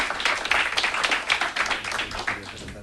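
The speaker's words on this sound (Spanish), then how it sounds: "Con ellos os dejo un aplauso para Juanjo Álvarez y María Blasco." Conference audience at a psychology and coaching lecture applauding, a dense burst of clapping throughout, moderately close and steady.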